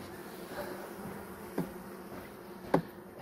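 Honeybees droning in a steady low hum over an opened hive during an October brood and honey-store inspection, with two sharp knocks breaking through near the end.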